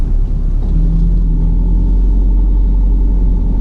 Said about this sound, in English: let's get the engine started up